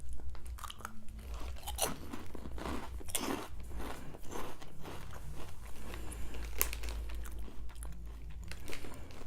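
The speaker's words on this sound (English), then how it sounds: "And I apologize if it is crunchy, or like it sounds very crunchy" Close, crisp crunching of a snack being chewed, with rapid irregular bites and crackles continuing steadily throughout.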